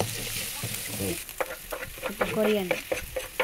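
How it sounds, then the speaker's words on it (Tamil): Garlic, green chilli and coriander sautéing in hot oil in a pan, a steady close sizzle with scraping stirs and spoon clatter, while a voice speaks briefly over it. "இப்போ நம்ம ஆயிலில் கார்லிக் போட்டுக்கலாம். நல்லா வதக்கிக்கோங்க, கோல்டன் ப்ரௌன் கலர் ஆகிற வரைக்கும்."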